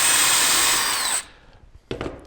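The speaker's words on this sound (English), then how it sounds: "we're going to drill a pilot hole," A power drill whines at high speed, boring a pilot hole in wood for a 2-inch deck screw on a planter box. It cuts off after about a second, followed by a brief knock.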